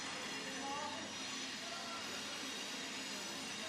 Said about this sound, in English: We get a train in the background. That's the noise.